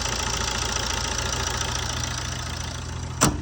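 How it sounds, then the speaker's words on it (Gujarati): A used car's engine idling, a steady mid-low hum with a faint knocking texture, close and continuous, broken by one brief sharp click near the end. "સાઉન્ડ પણ ગાડીનું બતાવી દો એકદમ ટોપ ને પેટી પેક એન્જિન રહેવાનું છે"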